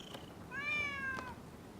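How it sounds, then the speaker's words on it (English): A stray cat in Rise of the Ronin gives a single clear, drawn-out meow, moderately close and heard alone over a quiet backdrop. "Who'd have thought a stray cat would wander in?"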